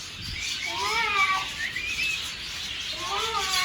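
Cockatoos and ringneck parrots call indoors, with a steady wash of chirps and warbling, rising whistled calls layered over one another, loud and close, with no clear talking.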